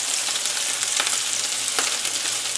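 Salisbury steak patties fry in a hot pan just after being flipped, a steady close sizzle and crackle with brief louder bursts of spitting fat.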